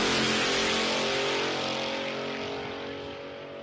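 A front-engine dragster on a solo drag racing pass at Willowbank Raceway in Queensland, a loud, dense engine roar that starts at full blast and then fades steadily as the car pulls away into the distance.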